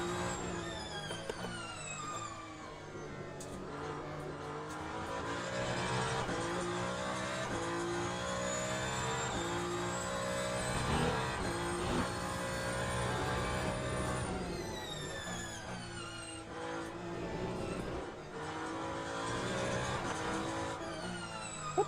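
A Ferrari hypercar in the Le Mans Ultimate racing game, its engine revving up and down through gear changes, loud and sustained for the whole stretch, with occasional tyre scrub and no voices.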